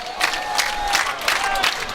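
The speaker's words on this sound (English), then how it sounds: "the crowd getting into it" A football stadium crowd at a 2014 semifinal game cheers and roars in loud, swelling waves, with scattered shouts rising out of the steady din of many voices.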